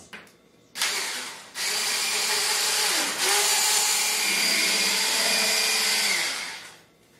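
An electric mixer beating holiday cookie dough kicks on after a brief stutter, then whirs steadily and loudly close by for several seconds with a slight pitch dip before winding down.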